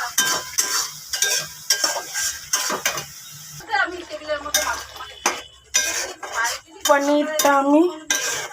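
Garam masala is stirred and fried in oil in a pan: a utensil scrapes and clanks against the metal in repeated strokes over a soft sizzle, with someone talking at intervals.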